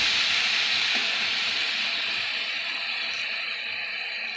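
Green peas and paneer fry in a hot pan for a curry, giving a loud, even sizzling hiss that slowly fades over a few seconds, close and uninterrupted.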